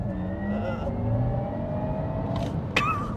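A Honda Civic Type R FK8 facelift under full throttle, its engine noise rising as the car pulls hard, sustained and close, with a sharp transient near the end.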